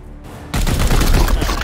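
Support fire barrage in Warhammer 40k: Chaos Gate - Daemonhunters, a sudden loud burst of rapid gunfire and blasts that erupts after a quiet moment and rumbles on densely to the end.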